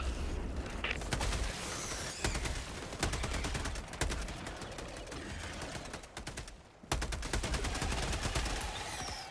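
Dense automatic gunfire from a Helldivers battle against bug outposts, with rapid bursts firing almost continuously, a brief lull near the end, then loud shooting resuming.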